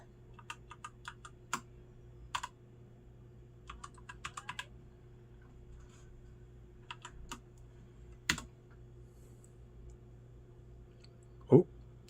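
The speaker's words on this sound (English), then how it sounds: "so I could do the keyboard right. Got my password entered." A password is typed on a computer keyboard, heard as sparse, crisp key clicks arriving in small clusters and single taps against a quiet room hum, with a louder clack near the end.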